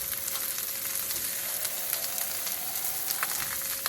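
Fried rice with onions sizzles steadily and loudly in a hot pan after a splash of water, a dense continuous hiss with small crackles and pops and no voices.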